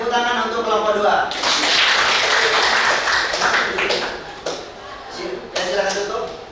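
Classroom applause for a student group after their presentation, a dense burst of clapping from many hands that swells, dips briefly, and picks up again, with voices audible beneath it.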